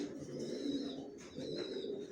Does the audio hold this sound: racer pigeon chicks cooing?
yes